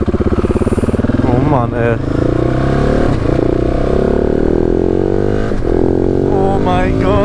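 A KTM 690 SMC-R supermoto pulls away with a loud, close single-cylinder bark, revving and climbing through gears in rising and falling sweeps, while a man exclaims over the engine.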